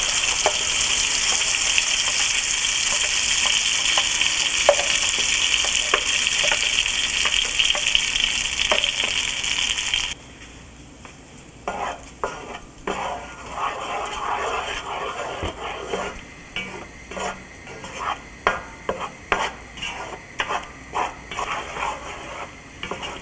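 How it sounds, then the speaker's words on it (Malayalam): Masala paste for butter chicken sizzles loudly in a frying pan at first, then quietens into scattered scraping and stirring knocks as it is mixed, with no talking. "ഇതിലോട്ട് ഈ അരപ്പിട്ട് നന്നായിട്ട് മിക്സ് ചെയ്യുക"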